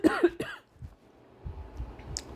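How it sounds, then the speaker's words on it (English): A person coughs several times in a quick, harsh burst at the start, followed by softer throat-clearing and faint breathy sounds close to the microphone. "Apologies for the coughing."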